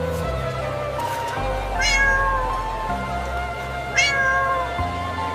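A cartoon cat meows twice, clear rising-and-falling cries spaced a couple of seconds apart, over gentle background music.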